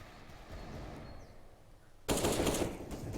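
Counter-Strike gunfire on the Inferno map in a professional match: after a quiet stretch, a sudden loud burst of rapid automatic shots erupts and keeps going.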